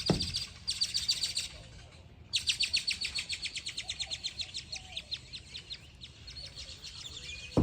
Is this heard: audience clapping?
no